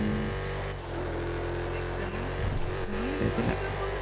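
A car drives in a video game, its engine droning steadily and then rising slightly as it revs, with some faint mechanical clunks near the end.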